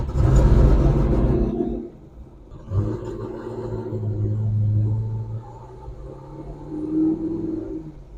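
C6 Corvette Z06 fitted with an MGW shifter on a test ride: a deep engine rumble that surges under throttle, eases, then rises and falls again with tire and cabin noise, heard from inside the car.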